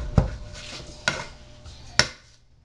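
Ginger minced with a cleaver on a cutting board in a kitchen: three sharp, separate chops spaced about a second apart, close and crisp, each fading quickly, with no talking.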